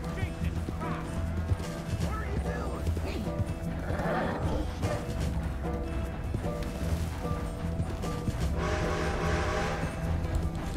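Horse galloping in the video game Red Dead Redemption 2, rapid hoofbeats running steadily alongside busy game sounds and a speaking voice at moderate volume.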